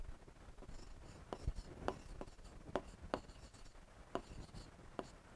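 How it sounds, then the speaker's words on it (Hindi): Chalk or marker writing on a board during a biology lesson on the human nervous system, heard as a string of quick scratchy strokes and taps in a steady, uneven rhythm, close and fairly faint. "इसमें यहां लिख दूं मैं"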